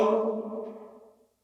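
A short vocal effect sample from the Exhale plugin, a single sustained voiced tone with a breathy top that fades away in just over a second, heard alone.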